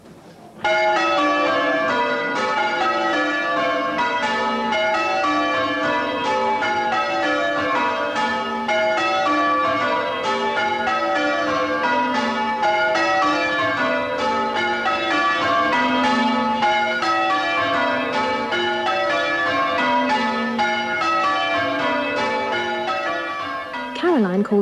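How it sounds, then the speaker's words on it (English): Church bells pealing continuously in a steady, overlapping cascade of tones, loud and sustained throughout with no talking. "when she wants them to ring the bells in a different order."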